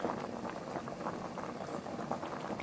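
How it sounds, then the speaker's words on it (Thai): Thai sour curry with young jackfruit and a whole snakeskin gourami boils in a pot, giving a close, steady, dense bubbling and popping that continues evenly throughout with no talk. "นี่ค่ะก็เดือดแล้วนะ"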